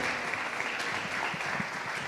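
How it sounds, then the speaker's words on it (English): An audience at a summit stage panel claps to welcome a speaker, giving sustained, even applause at moderate loudness throughout with no voices over it. "Big applause."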